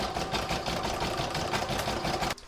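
An embroidery machine sewing a decorative seam on an in-the-hoop crazy patch bag, a fast rhythmic mechanical chatter of stitches, steady and close, stopping abruptly near the end.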